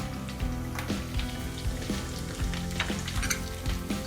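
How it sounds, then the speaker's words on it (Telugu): Chopped onions, green chillies and mint frying in hot oil for a mutton keema curry, a steady close sizzle with crackling pops and scraping stir sounds throughout. "ఈ ఆనియన్స్ ఫ్రై అవుతున్నాయి కదా"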